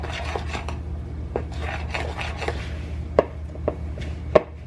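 A utensil works ingredients into a butter mixture in a bowl for apple cinnamon bread, with steady soft scraping and rubbing strokes and a few sharp taps against the bowl near the end, close and alone.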